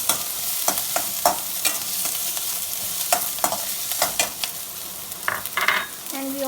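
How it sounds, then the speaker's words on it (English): Onion, ginger, garlic and green chilies sauté over a medium flame, sizzling steadily while a utensil taps and scrapes against the pan in quick, uneven strokes. "So we will saute them first till the onion turns light pink in color."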